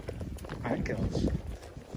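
Horse hooves clip-clop on a grooved stone street in the Pompeii ruins near Naples, a quick uneven run of hard knocks under someone talking close by.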